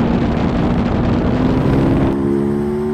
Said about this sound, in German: Der starke V2-Motor mit 110 PS macht einfach Spaß.